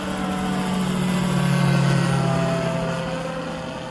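An AutoGyro MTO Sport tandem open-cockpit two-seat gyroplane taking off at an airport, its engine and rotor giving a loud, steady droning hum that swells slightly and holds throughout, with no talk.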